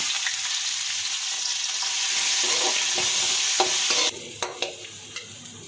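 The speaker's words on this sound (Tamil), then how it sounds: "பொடியாக கட் பண்ணி வச்ச பூண்டு சேர்த்துக்கலாங்க பொடியாக கட் பண்ணி வெங்காயம் சேர்த்துக்கலாங்க" Finely chopped garlic and onion fry in hot oil in a pan, giving a steady, close sizzle that drops away toward the end, leaving a few sharp stirring clicks.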